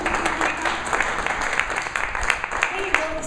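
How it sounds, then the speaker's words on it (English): An audience at a Bend town hall event on the legislative outlook applauds steadily, a dense wash of clapping that carries on for a few seconds, with some talking faintly mixed in. "A big round of applause to all of you."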